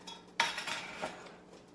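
Oat flour poured into a mixing bowl while making pancakes, a single soft dumping thump followed by a brief rustling settle and a faint clink against the bowl, close and quiet with no talking.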